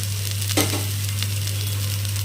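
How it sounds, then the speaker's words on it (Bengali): Fenugreek greens and eggplant fry with a steady, close sizzle over a low hum, with one sharp scrape of a spatula early on and a few lighter clinks after it. "শাক ভাজা হয়ে গেছে এখন দিয়ে দিব বেগুন"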